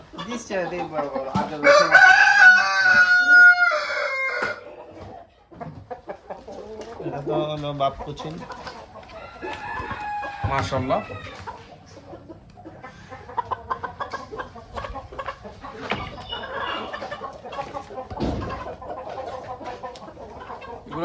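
Roosters and chickens, including the large Brahma breed, on a Cumilla poultry farm: one loud, near rooster crow rings out early, followed by scattered clucks and fowl calls under ongoing conversation.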